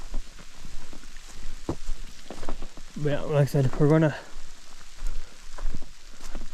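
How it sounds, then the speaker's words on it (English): Rain patters steadily on leaves and ground in the woods, a soft continuous hiss with scattered drops, while someone talks briefly partway through. "So I'm okay with the rain, to be honest with you."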